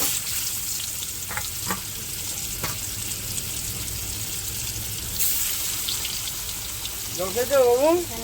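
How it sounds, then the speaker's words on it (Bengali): Fish pieces frying in hot oil in a wok give a steady, close sizzle and crackle throughout, with a brief voice heard near the end. "ভাজা দিয়ে দেবো এরকম"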